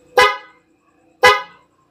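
Two loud, blaring blasts of a PIAA aftermarket horn on a Honda ADV160 motorcycle, about a second apart, each sharp at the start and trailing off, with silence between them.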